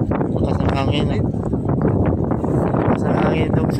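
Strong gusty wind buffets the microphone outdoors on a city walk in Hamburg, Germany, a loud continuous rumbling roar that swells and dips while people talk underneath it.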